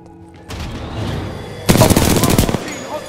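Rapid automatic weapon fire in the sci-fi shooter Titanfall 2: a loud, fast burst of close shots lasting about a second, following a quieter stretch of game ambience.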